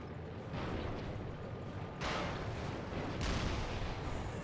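Grenade launcher fire in the video game Resistance: Fall of Man, a dense rumbling roar with two sudden louder blasts about a second apart, booming and close with no talk over it.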